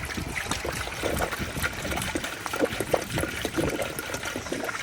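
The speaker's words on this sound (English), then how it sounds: "Take this piece out, pour in the coolant." Coolant antifreeze pouring through a funnel into a car, trickling steadily for several seconds, a close, uneven gurgling stream with no voices.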